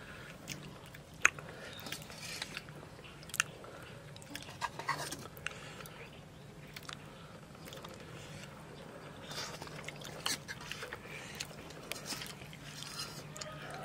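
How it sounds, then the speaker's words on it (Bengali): Someone chews a meal of fish and fried duck egg close to the mic, with soft, moist bites and occasional small crunches over a quiet background. "আজকে আমি খেয়ে দেখছি, মাছটা দারুণ লাগছে খেতে"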